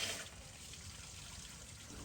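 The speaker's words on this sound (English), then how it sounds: "Put the water hose into the heater core outlet and let the coolant and grime to be drained." Water and old coolant with grime trickle and gush steadily out of a 2006-2013 Toyota Yaris heater core outlet while a hose flushes it, a quiet continuous splashing flow close by.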